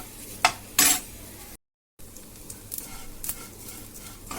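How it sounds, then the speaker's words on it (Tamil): Vermicelli sizzles faintly in hot ghee while a spoon scrapes and stirs the pan in a few quick bursts, with a short silent break midway. "அந்த நெய்யிலே சேமியாவையும் நம்ம வறுத்து எடுக்கணும்"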